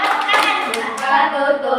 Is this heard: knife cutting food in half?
no